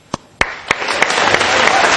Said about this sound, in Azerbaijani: Azərbaycan alqışlayaq ürəkdən